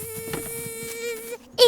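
Cartoon bees give a sustained, tonal buzz with a droning hum that wavers slightly, then stops before a brief sharp burst at the end.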